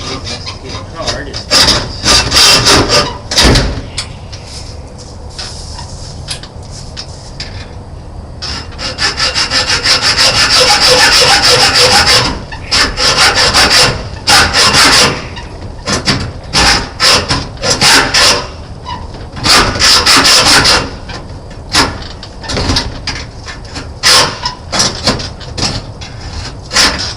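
Rough, repeated back-and-forth rasping of a hacksaw cutting through material, loud and close, in uneven bursts of strokes with short pauses between them.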